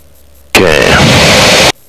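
A Pulsar III light aircraft engine runs at 1700 RPM in flight, a loud, steady droning roar that cuts in abruptly, holds for about a second, then cuts out again.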